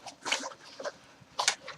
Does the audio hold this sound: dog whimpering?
yes